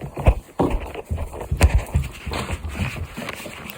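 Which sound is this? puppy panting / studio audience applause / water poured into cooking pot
puppy panting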